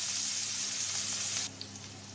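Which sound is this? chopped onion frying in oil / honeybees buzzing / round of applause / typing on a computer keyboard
chopped onion frying in oil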